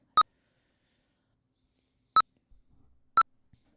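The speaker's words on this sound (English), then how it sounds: "The beeps are indicating that the thing is almost done loading." A computer gives three short, clear electronic beeps while loading, spaced unevenly in near silence, with faint soft noises between the last two.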